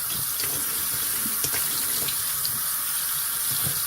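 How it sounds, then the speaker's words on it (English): Cold tap water runs steadily over boiled potatoes in a kitchen sink, a continuous close splashing rush with no talking. "I'm going to rinse them with cold water to cool them down."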